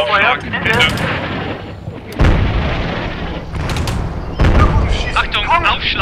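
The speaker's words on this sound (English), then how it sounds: "And now the enemy is really shelling my positions pretty hard with artillery." Heavy artillery shelling in the war game Combat Mission Shock Force: a run of deep booms and blasts with crackling debris, loud and close, while someone talks over the barrage.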